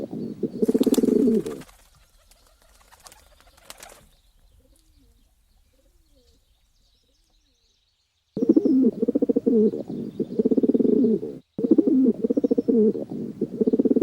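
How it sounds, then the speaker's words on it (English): A pigeon coos in repeated deep, throaty bursts, loud and close, with a quiet gap in the middle before the cooing resumes in several more rolling phrases. "pigeon"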